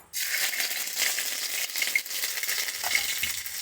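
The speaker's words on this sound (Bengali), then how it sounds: "তেলটা গরম হয়ে গেছে কড়াই, এর মধ্যে একটু আদা দেব" Chopped ginger dropped into hot oil in a wok, bursting into a loud, bright sizzle that starts abruptly and keeps crackling steadily close by.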